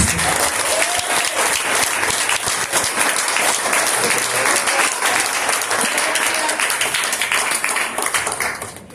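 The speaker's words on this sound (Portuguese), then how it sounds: "Dê uma linda salva de palmas" A church congregation gives a warm round of applause for a woman pastor at a revival campaign service, dense and sustained for about nine seconds before tapering off, with a faint voice underneath.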